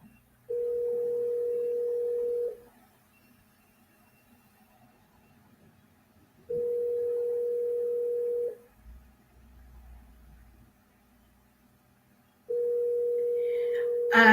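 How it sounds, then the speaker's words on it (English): A phone ringback tone repeats three times, each steady two-second buzz followed by a long silence, with no one answering. "The bell is ringing, but she's not picking up."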